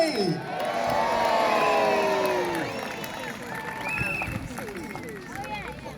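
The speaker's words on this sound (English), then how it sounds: "There goes the flag. Let's have a cheer." A crowd at the Scarborough mini boat battle raises a loud cheer as a flag is hoisted, with whoops and children's shouts swelling together and then breaking into scattered calls.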